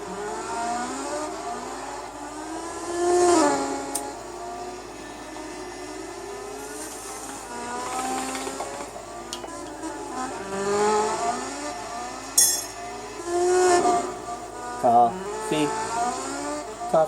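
Spoon S2000 race car engine idling and revving in the pits during a Gran Turismo 4 endurance race at Twin Ring Motegi, a steady motor drone with rising harmonic sweeps and short bursts, under a faint voice.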